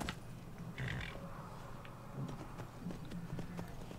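Horse hooves clip-clopping at a trot while riding in the video game Skyrim, a faint, fairly even rhythm of soft thuds with little else around them.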